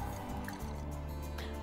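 Liquid pours and drips steadily as drinks are mixed at a bar in The Sims 4, with soft clinks over a continuous background bed.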